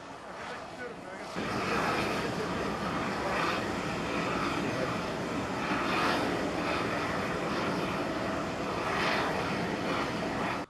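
A Turkish Airlines jet arriving from Moscow touching down at Ordu-Giresun Airport, a broad roaring engine rush that swells after the first second and stays loud and steady, with a news voice heard over it.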